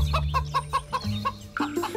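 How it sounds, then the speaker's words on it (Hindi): A cartoon hen clucks in a quick series of short, close, repeated calls, ending with a couple of higher, drawn-out notes, heard alone without talk. "ये सुनकर मुर्गी खुश हो गई और वहाँ से भाग निकली।"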